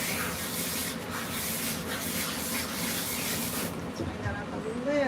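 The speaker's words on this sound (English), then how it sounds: "We'll rinse you off." Running water rinses a Scottish Fold cat during a grooming bath, a steady close hiss and splash that continues throughout, with a brief voice near the end.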